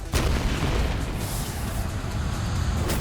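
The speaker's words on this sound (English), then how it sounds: "look at that pirate ship aiming its cannons at us" A deep booming blast from pirate ship cannon fire in the video game Like a Dragon: Pirate Yakuza, a heavy low rumble sustained across a few seconds with a sharper crack near the end.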